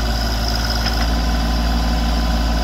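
A Branson tractor engine idles and rumbles steadily and loudly, a deep low drone with no breaks and no voices.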